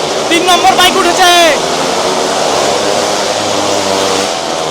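Motorbike engines at a stunt show at the World Dooars Festival: a high revving whine in the opening seconds, then a steady loud engine drone and crowd noise, with people talking throughout.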